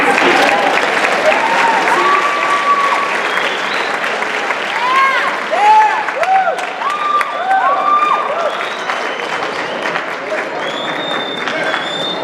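At a Black History Month school assembly, the crowd gives loud sustained applause with scattered cheers and whoops, while voices call out over the clapping.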